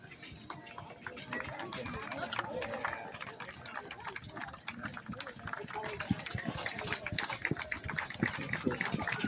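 Rapid hoofbeats from a six-horse hitch clip-clop steadily at a county fair horse show in Pennsylvania over a noisy background, with an announcer's voice faintly mixed in.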